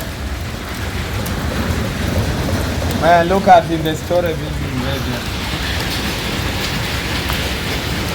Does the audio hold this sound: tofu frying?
no